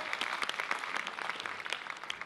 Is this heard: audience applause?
yes